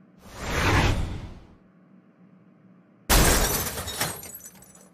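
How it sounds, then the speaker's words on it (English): A classroom TV is smashed, with a whoosh swelling and fading, a brief lull, then a sudden loud crash of shattering glass that decays over a second or two. "I'm going to smash the classroom TV."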